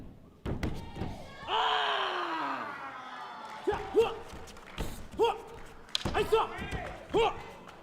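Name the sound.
bo staffs hitting against a martial artist's body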